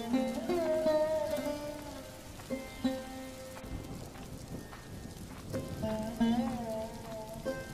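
Cartoon rain falls as a steady hiss through a cold winter village scene, mixed under sustained tonal music with a few brief thuds.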